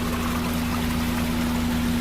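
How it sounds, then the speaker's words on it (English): Water splashes continuously from an aquarium filter sump onto bio balls in a garbage-can filter, a dense steady rushing and trickling with a constant low pump hum beneath. "So then I put this on to keep splashing going, and the water comes out and spreads it around."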